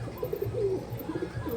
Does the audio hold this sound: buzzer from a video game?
no